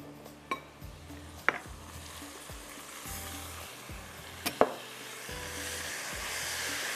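Chopped tomatoes drop into onions frying in a pan, bringing a steady close sizzle with a few sharp clinks of a spoon against metal as the mixture is stirred.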